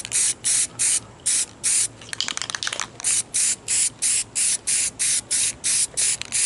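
A spray paint can sprays over a pinball stencil in a rapid series of short, loud, even hissing bursts, with a longer spluttering burst near the middle.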